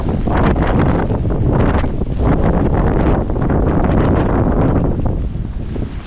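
Strong outdoor wind buffets the microphone at a wet rural plot being reshaped with a mini excavator, a loud, continuous roaring rush with gusty swells throughout and no voices.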